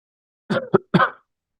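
A short burst of three close, harsh coughs in quick succession, then quiet.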